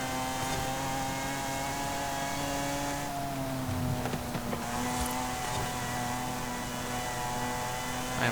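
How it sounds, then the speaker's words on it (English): Supercharger whine from a car in Forza Horizon 5, a steady high tonal whine with layered harmonics riding over constant engine drone, dipping slightly in pitch midway and holding loud throughout. "Supercharger whine just dominates everything though."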